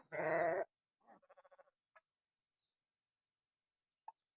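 A sheep bleats loudly and close for about half a second, followed by a few short, fainter bleat-like calls and a brief bird-like chirp, among sheep being treated with medicine, some with eye problems.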